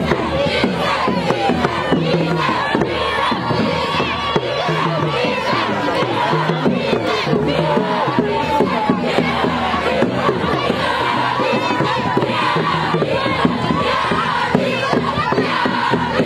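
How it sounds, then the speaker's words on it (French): Stadium-side crowd at the close of a local youth football match in Paparapanga, Benin, a dense continuous roar of cheering and shouting voices with scattered applause throughout, loud and sustained. "L'arbitre siffle la fin du match sous une salve d'applaudissements."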